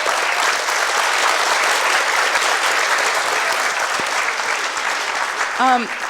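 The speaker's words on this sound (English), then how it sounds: "Can we get a big round of applause for all of our panelists?" An audience at a school women-in-power discussion panel applauds the panelists with sustained, dense clapping that fills the room, and a voice briefly cuts in near the end.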